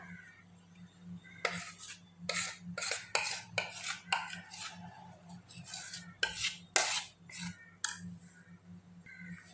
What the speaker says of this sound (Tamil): கொஞ்சம் நல்லா இப்படி தட்டி விட்டோம்னா தான் அந்த ஏர் பபிள்ஸ்லாம் இருக்குல்ல அதெல்லாம் வந்து இல்லாமல் ஆகும்